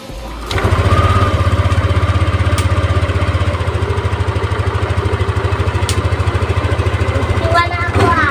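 Yamaha NMAX V2 scooter engine fresh from a throttle body cleaning starts up and settles into a steady, close, rhythmic idle with a faint voice underneath.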